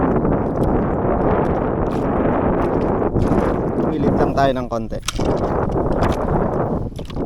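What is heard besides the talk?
strong wind at sea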